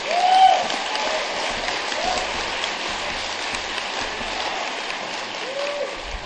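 Audience at an Alcoholics Anonymous speaker meeting applauding, a steady even wash of clapping sustained for about six seconds at moderate loudness, with a faint whistle-like tone early on.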